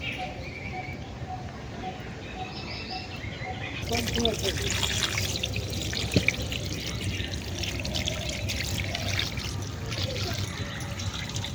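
Water pours and trickles during washing in a village kitchen, a steady running flow that grows fuller partway through, with a voice talking over it.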